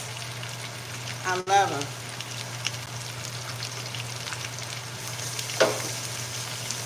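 Onions sizzling in a hot pan, a steady soft crackle of frying that continues under a voice, with a couple of louder clicks from a utensil.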